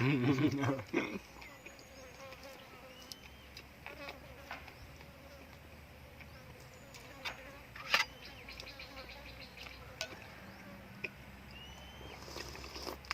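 Flies buzz around northern Thai food, with chilli dip made from galangal and steamed meat set out, giving a steady low drone with brief louder passes near the ear. Scattered clicks and faint voices sit in the background.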